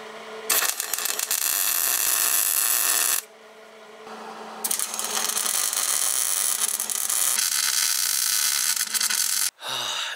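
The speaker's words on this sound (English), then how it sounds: "I'm gonna clamp it down and start welding it in." Arc welding of a new steel plate onto a trailer frame, a loud close steady crackling hiss in long runs of several seconds, broken by short pauses.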